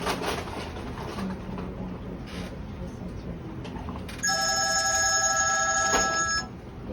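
In a hospital, a telephone rings in a clear electronic trill for about two seconds near the end. Quieter background voices and room noise are heard before and during it.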